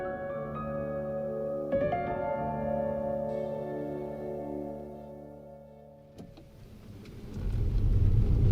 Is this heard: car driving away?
yes